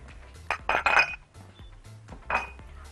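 Dishes and plates clinking as they are handled in a kitchen, a few short bright ceramic knocks in quick clusters, fairly close and quiet.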